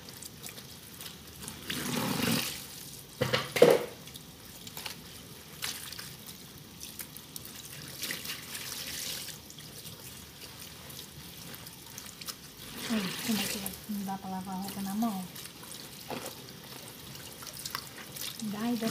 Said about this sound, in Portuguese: Com o tanque aberto, vou, já vou enxaguando para não guardar água suja.